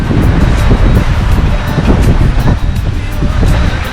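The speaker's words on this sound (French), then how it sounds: "Voilà, ça se punch un peu, hein, le vent." Strong wind buffeting the microphone over the rush of waves on a transatlantic sailing crossing, a steady loud roar with gusty swells and no voices.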